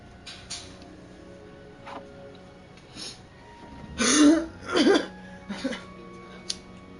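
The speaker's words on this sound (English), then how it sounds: "It's, smoker's cough. You feel me? You smoke, you cough." A Hogwarts Legacy character lets out a smoker's cough: two harsh, raspy bursts close together midway through, fairly loud against a quiet game ambience with faint tonal hum.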